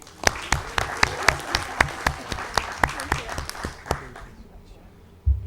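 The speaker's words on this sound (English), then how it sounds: "we just want to give a big round of applause to obviously all the girls here this evening and to the entire team" An audience claps for a team of girls at an evening event, a rhythmic burst of applause that thins out and fades toward the end, with a brief thump closing the clip.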